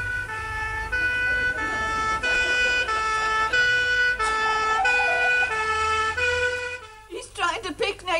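A police car siren wails loudly and steadily in a repeating two-tone pattern for several seconds, then cuts off and gives way to brief talk.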